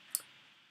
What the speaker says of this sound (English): So we get underway by clicking on the basic information option